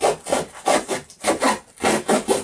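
A trusty knife saws through cardboard while an item is packed for shipping, giving about six rhythmic, close, rasping strokes with short gaps between them and no talk.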